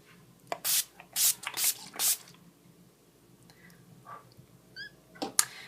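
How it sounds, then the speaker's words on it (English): Several short, bright hissing sprays of makeup finishing spray onto a face burst in quick succession, then a pause with faint dripping and rustling, and one final spritz near the end. "once I take a bath in the finishing spray"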